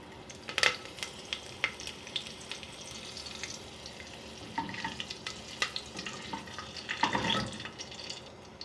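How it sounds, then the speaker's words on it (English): Mustard seeds, urad dal, a green chili and curry leaves hit hot oil, giving soft low sizzling with scattered pops and crackles and a louder burst near the end, faint and without talk. "Once the oil is hot, adding little mustard seeds, little urad dal, 1 green chili and few curry leaves."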